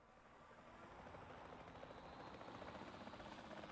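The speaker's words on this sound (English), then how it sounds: "Actually, where's my helicopter?" A helicopter in the video game Jurassic World Evolution 2 gives off a steady, loud rotor-and-engine drone that holds constant and builds slightly over a few seconds, with no talking over it.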